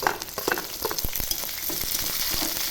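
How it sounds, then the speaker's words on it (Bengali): Chopped onion and green chilies frying in hot oil with garlic and fenugreek leaves for a pea and tomato chutney: a steady close sizzle with rapid crackles and spatula scrapes throughout, without speech. "কাঁচা লঙ্কাগুলো দিয়ে দেবো"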